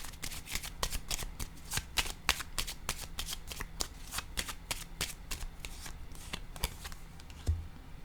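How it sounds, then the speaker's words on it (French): Tarot cards are shuffled close up in a steady run of crisp, snappy riffles and slaps, with a soft thump near the end as a card is drawn. "là je vais piger une carte ici, en cette zone"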